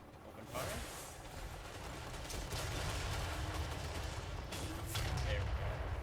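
Dwarf troops fire a volley in a Warhammer video game mod, a dense crackling burst of gunfire with sharp repeated cracks over a continuous rumbling battle din.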